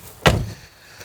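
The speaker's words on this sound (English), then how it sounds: "That'll be fine, you shut the door like that." A single solid thunk of a car door being shut close by, followed by quiet with a faint knock just after.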